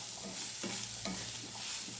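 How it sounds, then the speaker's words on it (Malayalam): Chopped vegetables being sautéed and stirred in a pan with salt, turmeric and chilli powder for upma, giving a steady soft sizzle broken by a few scraping stirs of the spoon, close and alone. "ചെറുതായി അരിഞ്ഞിട്ടത് ഇനി വഴറ്റി കൊടുക്കാം"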